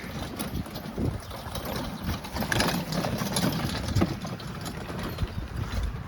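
Electric motor of an RC lawn mower fitted with 13-inch snow-thrower tires runs steadily with its cover not bolted down, giving a loose rattling hum that stays fairly constant and close throughout.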